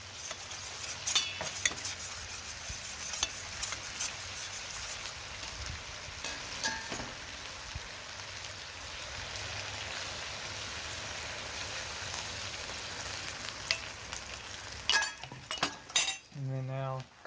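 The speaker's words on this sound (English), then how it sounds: "I'm going to give this sauce a stir before adding it in." Kung pao sauce is stirred in a bowl or wok with utensils clinking and scraping in irregular bursts against a low background hiss, ending with a few louder knocks and a brief voice.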